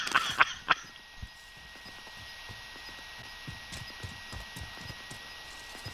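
A heartbeat sensor in Call of Duty Warzone pulses in a steady, soft thumping rhythm through the whole stretch, after a few louder clicks at the start, over a faint game hum with no talk.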